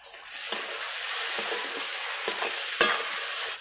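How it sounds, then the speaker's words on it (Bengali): Semolina mixture with vegetables, tomato and capsicum, being stirred and sautéed in a pan: a steady close sizzle with scraping spoon strokes and a few sharper knocks against the pan, no voices. "এবারে আমি সবকিছু খুব ভালো করে একটু কষিয়ে নেব"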